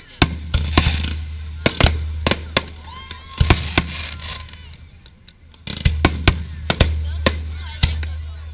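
Fireworks at a 2016 Palatka display burst in sharp, loud bangs and crackles, scattered irregularly over a steady low rumble, with clusters of rapid reports early and late and a quieter stretch in the middle.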